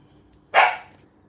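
A single sharp dog bark, close and fairly loud, rising suddenly and trailing off quickly over a quiet room with no talking.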